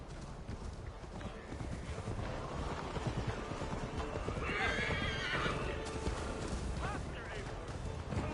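Rapid hoofbeats of a galloping horse in a video game drum steadily, with a whinny rising midway and voices talking over the clatter.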